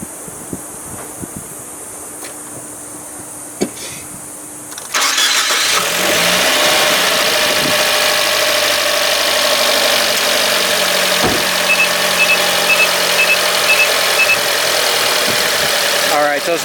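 A Fiat 124 Spider Prima Edizione sits quietly with faint clicks before its engine cranks and catches about five seconds in, then settles into a smooth, even idle that runs steadily to the end.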